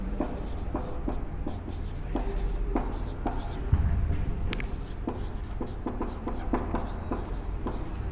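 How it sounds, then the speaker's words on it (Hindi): Chalk or marker strokes scratch and tap across a board in a maths classroom, a quiet run of short irregular writing sounds with soft knocks between them. "मैं यहाँ पे लिखती हूँ"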